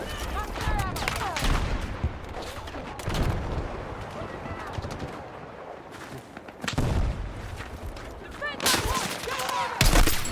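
Gunfire and heavy explosive bursts from a Battlefield 6 firefight, loud repeated blasts clustered at the start, around three seconds and near the end, with a voice talking over the combat in between.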